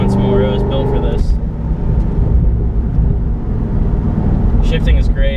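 A Chevrolet Corvette C6 Z06 engine roars loudly through gear changes, its deep drone dipping and resuming beneath someone talking.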